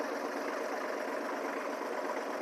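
A 1954 tractor engine idles in a steady, unbroken mechanical drone at moderate distance, with no talk over it.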